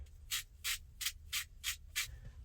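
Hands work spice rub into a rack of pork ribs with the membrane removed; six evenly spaced, close, raspy rubbing strokes, with no voices.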